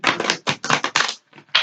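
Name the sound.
shuffling a deck of tarot cards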